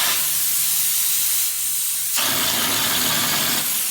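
A loud, continuous hiss of a texture hopper spraying onto a table, with the tone shifting and thickening partway through into a chopping sound. No voices.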